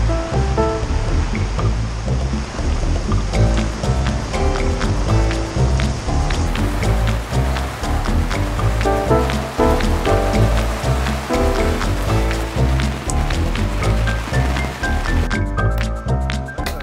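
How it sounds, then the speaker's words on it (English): Steady, dense rushing wash of rain falling heavily, continuous and loud throughout with no voices. "We got a fair bit of rain in the next few days"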